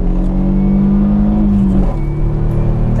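A Peugeot 406 taxi with a V6 engine accelerates, its loud, steady engine drone climbing in pitch and then dropping as it shifts, heard close from inside the car with no talking.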